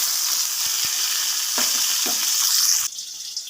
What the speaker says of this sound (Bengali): এবার আমি টমেটো কুচনো দেবো।